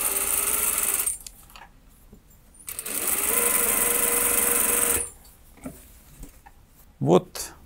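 A sewing machine fitted with a special gathering presser foot runs in two bursts, a loud close whirring rattle of rapid stitching, with short pauses and someone talking between them.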